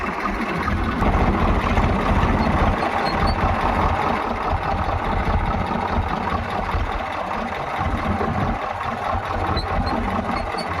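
A tractor engine runs on a village threshing floor with a steady, loud mid-pitched rumble and knocking vibration throughout. Nothing else breaks through.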